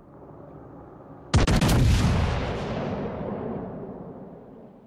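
Naval gunfire in a video game opens with a sudden loud burst of several rapid heavy blasts, then a long rumbling boom that slowly fades.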